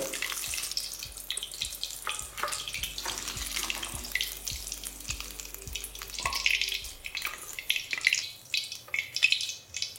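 Paneer pieces frying in hot oil give a steady, close crackling sizzle with bursts of spitting and popping throughout.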